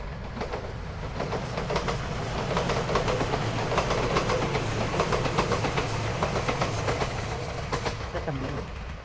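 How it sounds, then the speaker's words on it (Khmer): A train rolls past nearby with rhythmic clickety-clack of wheels over rail joints, a steady loud rumble lasting several seconds that fades slightly at the end. "រថភ្លើងមកទៀត"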